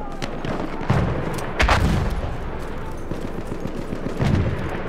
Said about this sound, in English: Are being halted by our artillery barrage.